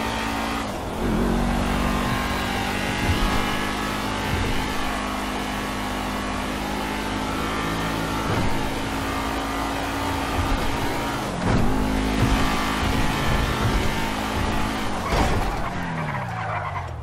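A car driven in Grand Theft Auto V, a loud continuous engine drone with shifting revs and occasional tire squeal or skid bursts, with no voices over it.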